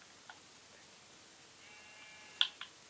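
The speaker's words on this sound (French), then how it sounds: "Bonjour petit mouton." Sheep in Minecraft give a couple of short, faint bleats, the clearest coming late, over a quiet background with light ticking sounds.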